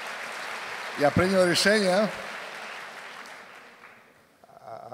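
An audience at a church gathering claps in a dense wash of applause that fades out gradually, with a voice briefly speaking over it.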